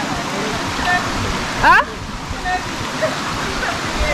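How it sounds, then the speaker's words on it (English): River water near Mt. Carmel Waterfalls in Grenada rushes in a steady broadband wash, with people talking briefly over the flow and a short sharp bird-like chirp partway through. "So you have to cross this river in order to get over there."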